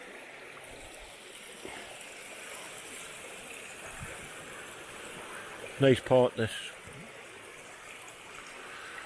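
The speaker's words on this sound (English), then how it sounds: "all this running water" Steady rushing water pours through a fish pass on the River Derwent, a continuous broad wash that fills the scene, with someone briefly speaking over it partway through.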